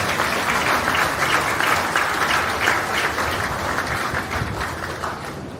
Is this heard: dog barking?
no